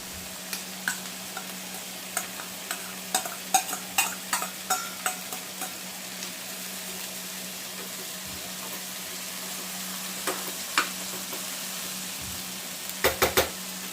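Sweet corn is stirred and fried in a pan, with a steady low sizzle and repeated sharp clicks of a spoon against the pan coming in bursts, loudest near the end.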